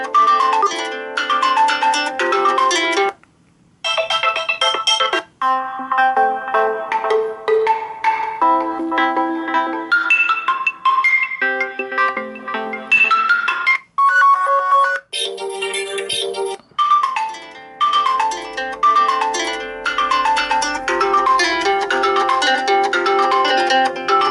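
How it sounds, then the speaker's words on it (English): A series of phone ringtone melodies plays loudly through a Moto X Style (Pure) speaker, one tune after another with brief pauses between them. "Let's play some ringtones and see if you can hear the speakers and how loud they actually are."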